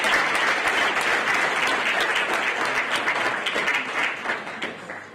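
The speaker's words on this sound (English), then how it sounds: "another round of applause." Steady, dense applause from a large audience at an African health workforce investment forum, loud and sustained throughout with no voices on top.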